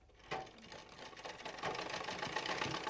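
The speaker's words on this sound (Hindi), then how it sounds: "यहां प्रशिक्षण के लिए जिला पंचायत ने दी 5 सिलाई मशीनें और कढ़ाई करने की मशीन।" A sewing machine runs steadily for about three seconds, a continuous mechanical whir starting abruptly after a short quiet moment and holding at moderate loudness, with no speech; the machine is one of several used for sewing training at a rural education centre.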